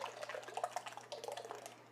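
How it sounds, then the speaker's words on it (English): Blended gazpacho poured from a blender into a bowl, a quiet, close, continuous liquid pour with soft splashing and gurgles, no talking. "Now I'm going to pour all but just a bit into my bowl."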